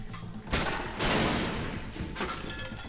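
Launcher fire in the turn-based shooter Steamworld Heist: a loud burst of blasts with an explosive impact tail, then a second flare of noise near the end, with no talk.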